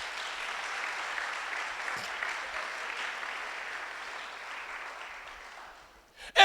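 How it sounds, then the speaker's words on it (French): A church congregation at a French-language service applauds and cheers for the Lord with sustained, steady clapping from many hands that slowly fades out, followed by a brief loud bump at the very end. "Est-ce qu'on peut acclamer le Seigneur?"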